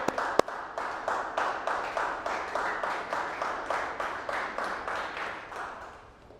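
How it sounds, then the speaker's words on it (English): A high school class claps together for a volunteering student, a roughly even, rhythmic group clapping of moderate loudness that continues steadily and tapers at the end. "give me a clap for him"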